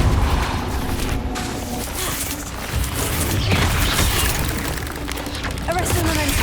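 A fire spell, Incendio, cast in the game Hogwarts Legacy: a loud, dense roaring burst of flame that stays at a steady, heavy level through the whole clip, with crackling impacts mixed in.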